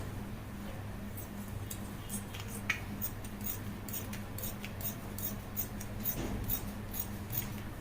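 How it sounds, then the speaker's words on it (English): Scissors snip through fabric while cutting open the zipper line of an off-shoulder blouse with puff sleeves, a series of short crisp cuts at an irregular pace over a low steady hum, close up, with no talk. "I cut open the zipper line."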